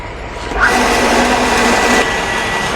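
Water rushes through a just-opened valve to fill a tank. A loud, steady broadband whoosh starts abruptly after a brief quiet moment and holds constant, with a faint machine-like hum underneath.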